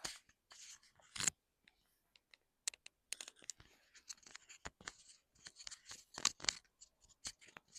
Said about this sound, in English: I'm going to put the mic back.